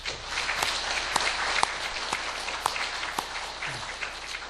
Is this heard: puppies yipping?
no